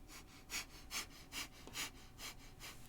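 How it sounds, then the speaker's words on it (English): Rapid rhythmic breath of fire during Kundalini yoga, about seven evenly spaced forceful exhalation bursts close to the microphone, with no talking. "keep that with breath of fire"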